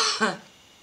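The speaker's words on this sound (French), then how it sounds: "il fallait que je tousse un bon coup" A single sharp cough, close and fairly loud, followed by quiet.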